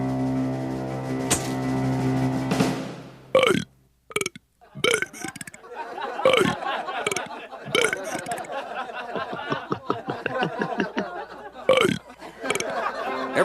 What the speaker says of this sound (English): I'm gonna burp popular songs.